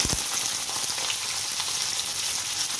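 Green chillies fry in hot oil in a pan with a loud, continuous close-up sizzle and crackle that holds even throughout, no voices over it.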